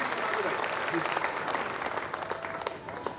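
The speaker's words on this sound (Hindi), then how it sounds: "एक बार तालियां बजाकर मुझे थोड़ा सा आशीर्वाद दें" An audience at a stage event, a 2022 memorial evening for martyrs in Umaria, breaks into steady, dense applause that fills the whole stretch at a fairly even loudness, with a faint murmur of crowd noise mixed in.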